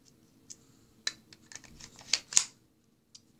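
An airsoft Smith & Wesson M&P 40 pistol magazine is handled and loaded, giving a few sharp, close plastic clicks and rattles spaced over a few seconds in a quiet room.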